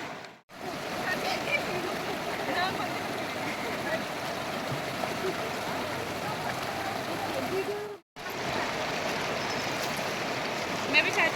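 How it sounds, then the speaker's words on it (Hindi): The fast-flowing Ganga river roars steadily and loudly close by, a dense continuous rush of water with brief cuts in the sound. "फोर्स लग रहा है नदी का बहुत"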